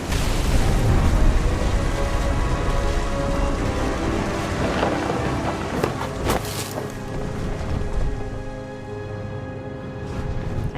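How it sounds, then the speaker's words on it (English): Steady, dense rain pours in the video game What Remains of Edith Finch, with a deep rumble of thunder rolling through partway and the downpour continuing afterward. "The thunder sounded much too close and full of angry power"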